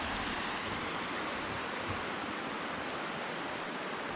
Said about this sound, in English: there's water coming two places and meeting right there